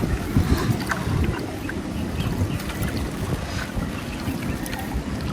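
Strong wind buffets a small boat out on the water during a shrimp-trap fishing trip, a constant rushing roar with microphone gusts and no clear voices.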